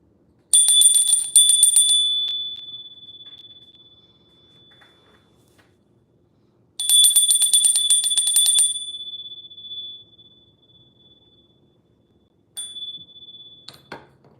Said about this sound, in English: I'm gonna do a little ringy dingy of the bell, clear the space.